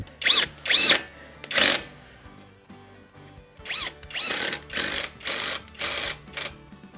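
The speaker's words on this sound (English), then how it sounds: "the 24-volt Kobalt right angle impact" A Kobalt 24-volt Max cordless right angle impact driver runs in a series of short, loud bursts, a couple of quick pulses, a longer one, then four evenly spaced hammering bursts close to the mic, with no talk.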